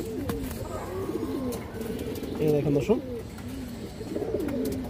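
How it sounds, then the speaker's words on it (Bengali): A red Chulli female pigeon of an old breed line coos softly in repeated low phrases, close by, while someone talks over it throughout. "পুরান ব্রাডের একটা লাল চুল্লি মাদি কবুতর মাশাআল্লাহ খুব সুন্দর একটা কবুতর"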